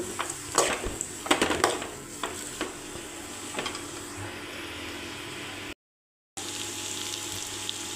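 Onions and tomatoes sautéing in hot oil in a pan for dried-anchovy karuvadu thokku, a steady close sizzle with clinks and scrapes of a spoon stirring, one brief silent gap near the end.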